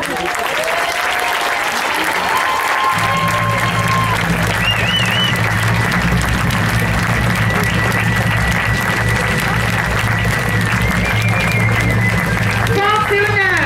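An audience at a medieval festival in Lévie applauds performers, sustained dense clapping from a crowd lasting throughout, with a low hum and voices calling out over it.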